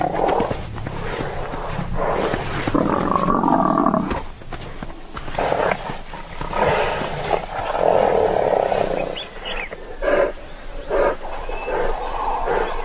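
A lioness fighting a large horned animal lets out repeated guttural roars and growls in rough bursts, loud and close, with scuffling between them.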